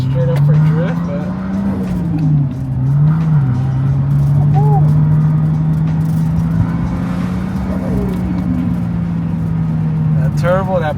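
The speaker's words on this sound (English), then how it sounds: "that turbo, that blow off valve is, I don't know if it's even blowing off to make that nice of a sound, but it's responsive" A JDM car's turbocharged engine, fitted with a blow-off valve, drones steadily at close range with a held, slightly wavering note and brief rises, a tire squeal or flutter near the end, and a person talking over it.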